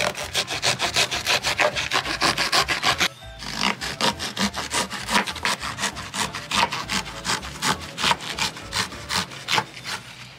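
A blade saws through an oil-soaked cardboard egg tray in quick, rhythmic back-and-forth strokes, close and steady, with a brief pause partway through.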